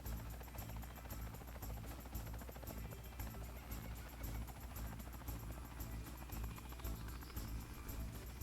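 A helicopter flies in the video game Ty 2 on PC, giving a steady dense rotor hum and rhythmic chop that runs continuously throughout at an even, moderate level.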